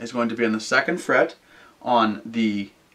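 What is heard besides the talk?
No everyday noise stands out behind the speech.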